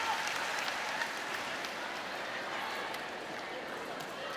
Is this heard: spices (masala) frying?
no